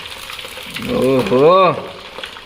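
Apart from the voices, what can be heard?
fish frying in a pan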